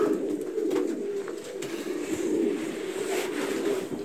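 Racing pigeons coo in a loft, a close, continuous low throaty murmuring from several birds overlapping without pause.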